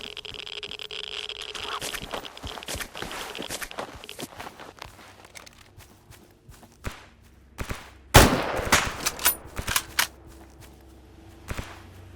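Gunfire in the shooter game S.T.A.L.K.E.R.: Anomaly, heard as scattered sharp cracks and short bursts against a steady background hum, with one louder, closer shot standing out partway through and fainter distant pops around it.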